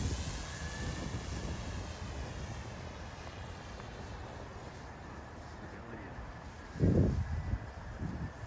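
A 3D printed radio controlled stunt plane flies on its maiden flight, its small engine giving a steady continuous drone across the whole stretch, with a brief louder burst of wind or voice near the end.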